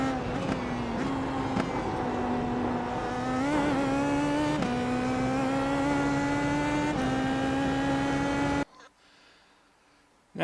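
Car engine pulling out of the Carousel on the Nürburgring Nordschleife, a loud steady in-car drone rising in pitch through the gears with brief shift dips, cutting out near the end.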